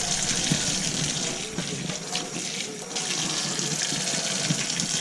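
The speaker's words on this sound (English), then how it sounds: "Give this a bit of a rinse." Water runs steadily from a sink tap for rinsing in a kitchen, a continuous close splashing rush with no break and no voices.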